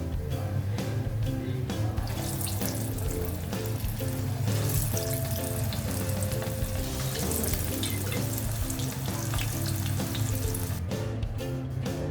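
Banana flower and chana dal vada fry in hot oil, a dense continuous sizzle and bubbling crackle at close range, steady throughout with no talking.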